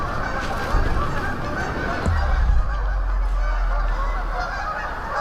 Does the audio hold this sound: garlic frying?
no